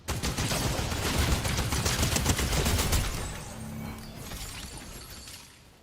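Gunfire in a video game, a dense rapid fusillade of shots and shattering impacts for about three seconds, loud and close, then fading into a softer, sputtering tail.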